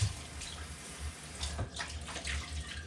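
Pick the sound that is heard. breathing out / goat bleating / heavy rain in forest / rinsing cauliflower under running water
rinsing cauliflower under running water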